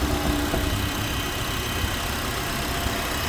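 A Honda car engine idling nearby, a steady, even low rumble and hum that holds without change throughout, with no one speaking.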